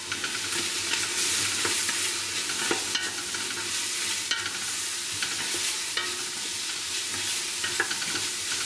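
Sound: minced garlic being stirred while frying

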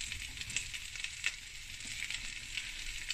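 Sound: spices sizzling in a pan as paprika is added

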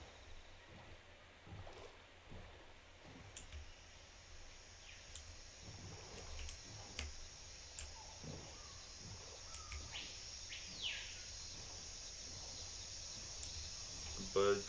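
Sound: bird chirping in modded Minecraft, a video game

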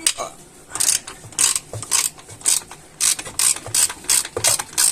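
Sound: ratchet wrench unscrewing bolts on BMW E34 engine

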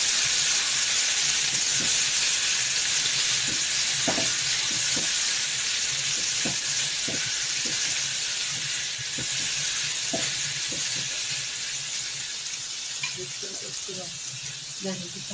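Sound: onions and tomatoes being sautéed in a pan

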